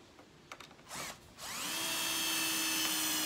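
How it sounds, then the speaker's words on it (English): A Festool power drill whirs in short bursts while countersinking a screw, then spins up into a steady, sustained high whine that holds to the end. "Here's my drill."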